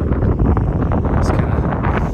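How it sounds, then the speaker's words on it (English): Strong wind buffets the microphone on an exposed mountain summit at the Continental Divide near Creede, Colorado, a loud continuous roar of rumbling gusts with no pauses. "it is super windy up here"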